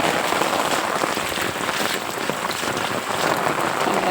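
Heavy monsoon rain pours down steadily in a Gujarati village, a dense, continuous hiss of drops striking surfaces with no letup and no voices.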